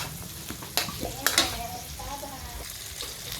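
Chopped onions sizzle and spatter in a frying pan, a close, busy crackle with several sharp pops; a voice murmurs briefly over the frying.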